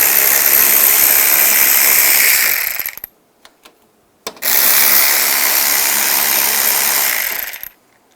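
A ratchet fitted with a 10mm socket spins a headlight bolt loose on a 2010-2015 Toyota Prius, running in two long, loud, close buzzing bursts with a short gap between them.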